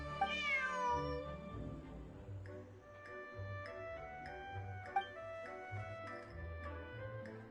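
A cat meows in Genshin Impact, with a series of rising and falling cries over a steady ticking clock and a soft game music bed, fairly quiet throughout.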